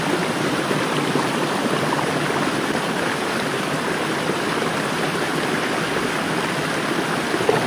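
Water rushes at Ashokjhar waterfall in Jajpur, Odisha, as a loud, constant, dense roar that stays even from start to finish, with no voices.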